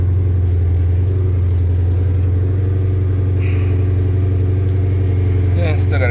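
A Chrysler car engine idles steadily after repair, a loud, even low rumble running throughout, with faint talk in the background.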